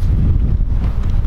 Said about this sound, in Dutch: want de wind is hier zo hard